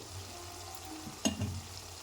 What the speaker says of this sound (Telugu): ఇప్పుడు లాస్ట్లో మనం కొత్తిమీర వేసుకుందామండి